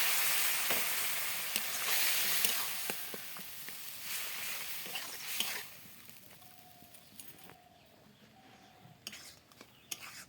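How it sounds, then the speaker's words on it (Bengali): A hot pan of egg and tomato sizzles loudly as water goes in. The hiss is dense and steady at first, then gradually dies down, with a few light clicks and taps near the end. "একটু পরিমাণে জল দিন"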